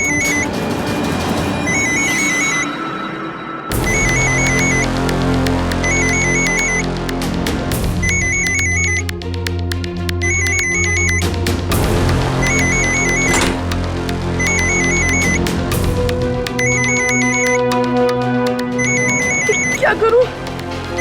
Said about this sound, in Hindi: अब तो दूसरे फोन की आवाज भी सुन ली होगी।